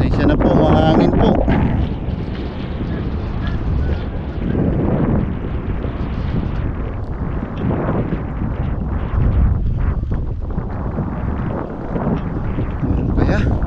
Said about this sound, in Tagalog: Pasensya na po, mahangin po.